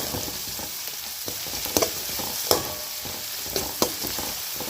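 Onions and green chili frying in a pan for chicken idiyappam biryani make a loud, steady sizzle with occasional sharp stirring clatters and scrapes, with no voices.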